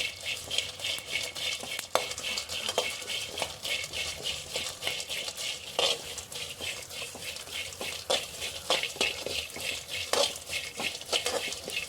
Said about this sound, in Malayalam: ചെമ്മീൻ നമുക്ക് വറുക്കണം